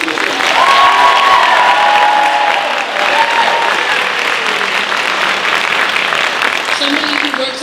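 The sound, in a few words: audience applause at high school Little Mermaid show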